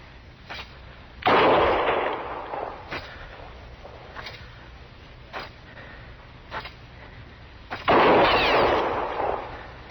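Gunshots in a 1955 radio western drama, two loud booming shots several seconds apart with echoing tails, separated by quieter background and sharp clicks.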